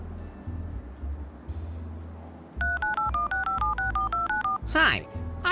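Touch-tone dialing beeps from a phone in the video game Leisure Suit Larry: Wet Dreams Dry Twice, a quick run of about a dozen sharp, evenly spaced key tones over game background music, ending in a brief swoosh.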